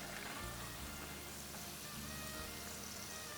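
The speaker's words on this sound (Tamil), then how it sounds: "இப்போ இந்த பக்கோடா குருமாவுக்கு தேவையான பக்கோடாக்களை பொரிச்சிக்கிட்டு இருக்கோம்." Pakoda fritters for a kurma fry in hot oil, a soft, steady bubbling sizzle heard close but quietly throughout, with no voices.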